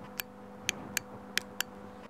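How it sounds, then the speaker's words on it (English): A fuel injector under test clicks sharply as its power is connected and disconnected, five or six crisp, separate ticks at uneven intervals over a faint steady hum, close and alone. "That's the sound of the injector working when you connect and disconnect the power."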